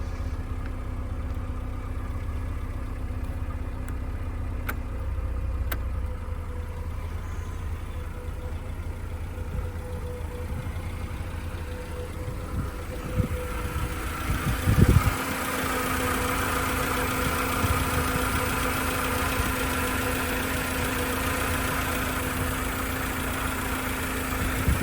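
A 1988 Mercedes-Benz 190E W201 idles after start-up, a steady low engine drone that carries on alone throughout, with a brief louder knock or thump partway through.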